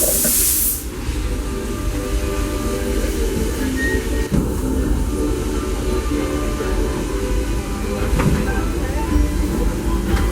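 The Disneyland Railroad train rumbles steadily along the tracks, loud and close, with continuous wheel noise and faint rattling throughout.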